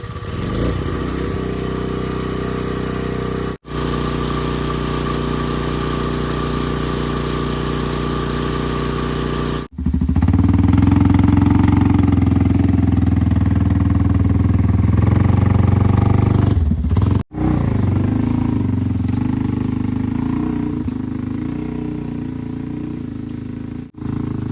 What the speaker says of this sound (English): then we'll take the four-wheeler back to the new building site